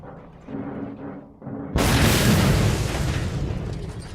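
A gas tank explodes in the Mad Max video game: a sudden, loud, roaring blast breaks over low rumbling game sounds, then its heavy, crackling wash slowly thins out.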